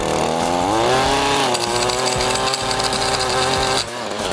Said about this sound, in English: you're just keeping it tight to the concrete, and you're going to hear that grinding